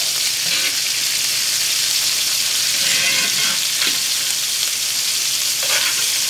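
A filet mignon sears with butter in a hot cast iron pan, giving a loud, continuous close sizzle and crackle with a few brief spatters and no talking.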